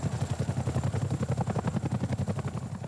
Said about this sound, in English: A Chinook lands at Boscombe Down for an exercise with a difference